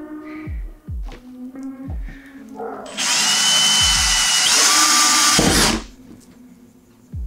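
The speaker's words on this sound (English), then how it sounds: "now we're ready to drill the holes" A power drill whirs loud and steady for about three seconds drilling holes in wood for a balance board, then cuts off; short knocks and thumps come before and after.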